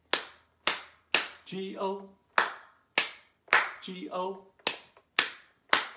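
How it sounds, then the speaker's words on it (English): Sharp hand claps in sets of three during a children's circle-time farmer-and-dog song, each clap loud and close, alternating with a voice singing the spelled letters. "Three claps, all right?"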